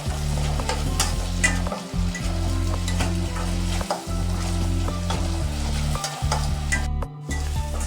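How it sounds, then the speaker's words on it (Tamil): Small onions sautéing in a pan for mutton sukka, a steady close sizzle and fry with repeated stirring scrapes and clinks throughout, no talk. "சின்ன வெங்காயம் நல்லா வதங்கி வரணும்."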